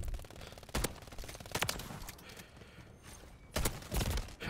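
Bursts of gunfire in a Call of Duty MW3 zombie match ring out in several sharp clusters of shots separated by quieter gaps, fairly faint, with faint game sounds between.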